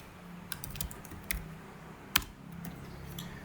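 Computer keyboard keys tapped in short, uneven bursts as a school name is entered, close and moderately loud, with one sharper clack near the end and no speech.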